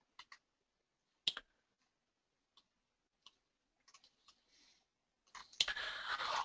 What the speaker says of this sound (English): all we have to do is right-click and click Export